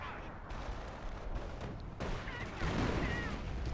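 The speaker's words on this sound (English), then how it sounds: "Oh, look, more howitzer action." Howitzer artillery in Company of Heroes, muffled booming blasts rumbling low and distant, with a heavier burst near the end; quiet overall.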